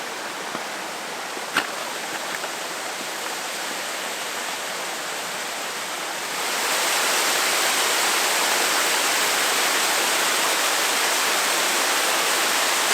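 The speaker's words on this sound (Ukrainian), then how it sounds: "Ну, так собі водоспад," A small mountain waterfall in the Chornohora highlands pours steadily with a broad, constant rushing hiss that swells louder partway through and then holds even, with no voices.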